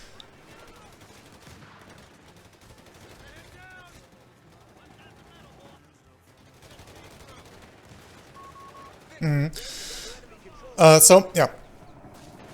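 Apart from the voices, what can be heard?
anti-tank guns firing in Company of Heroes 3 video game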